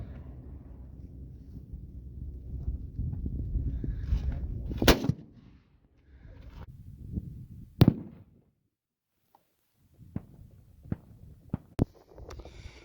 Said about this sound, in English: Okay, I'm going to fire.